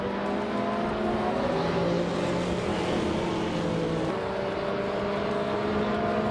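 Vintage race cars at the start of a video-game race at Aintree Vintage, led by a 2000 BMW Z8. Several engines roar together in a dense, steady, close drone, with pitch shifting as they accelerate.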